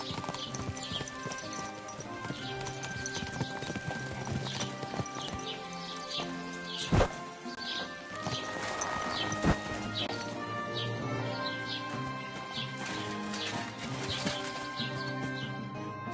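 A horse's hooves clip-clop at a steady walking rhythm in a medieval video game, with background music and a couple of sharp louder thuds partway through.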